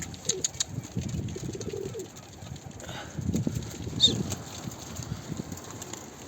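Low, soft pigeon coos come in short bursts close by outdoors, mixed with light wind noise and a brief flutter.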